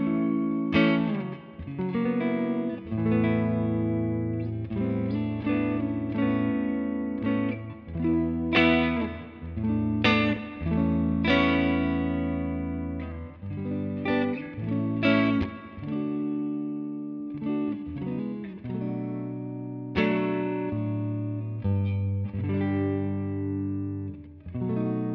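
Electric guitar played through an HX Stomp with stereo effects panned hard left and right, strumming chords and picking notes in a full, distorted, effect-laden tone that carries steadily throughout without any voices.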